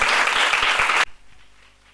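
Loud clapping from the audience at a foundation anniversary ceremony in India honouring a panchayat worker, a strong burst of hands that stops abruptly after about a second and leaves near silence.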